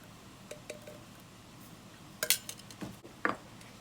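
Spoon clinks against dishes while green tea leaves are scooped out for ochazuke, a handful of short light taps and scrapes in a quiet kitchen.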